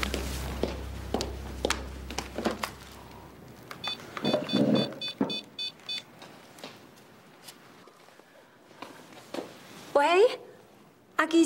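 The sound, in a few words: telephone being dialed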